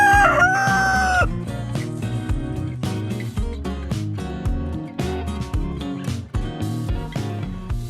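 A rooster crows loudly once nearby at a homestead, followed by ongoing clucking and bird calls over a busy background of repeated knocks and clatter.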